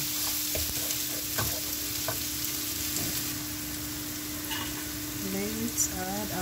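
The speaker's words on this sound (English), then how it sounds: "And let it fry until the roast melts." Pan frying for palak paneer, a steady close sizzle of oil with light stirring clicks and scrapes throughout, continuous and fairly quiet, no voices.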